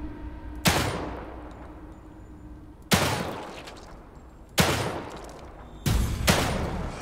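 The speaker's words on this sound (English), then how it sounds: "See how accurate this pistol is." Pistol gunshots in the video game The Evil Within 2: four sharp, loud reports spaced a second or two apart, each with a short echoing tail, and no talking.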